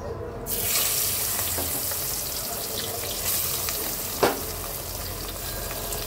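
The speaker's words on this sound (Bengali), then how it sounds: "এখন আমি মাছগুলো ভেজে নেব খুব সুন্দর করে।" Golsha fish frying in hot oil in a wok, a steady broadband sizzle that carries on without a break, with a brief clack of a utensil near the end. Close and fairly loud, with no talk.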